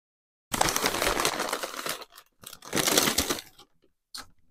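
Paper rustles and crinkles in a couple of close bursts as yarn packaging is handled, followed by a brief final crackle, with no speech.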